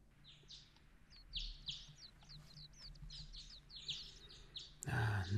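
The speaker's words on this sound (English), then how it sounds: "Nice early mornings, the birds waking up, chirping." Morning birdsong from the video game Trails in the Sky: a steady run of bright chirps and tweets over a low ambient hum, ending in a brief louder burst of noise.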